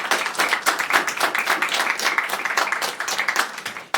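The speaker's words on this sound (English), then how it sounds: "Let's give him a big round of applause." Audience at a Gaithersburg city council meeting breaks into a round of applause during a proclamation ceremony; dense, steady clapping from many hands, close and loud, sustained for the whole stretch.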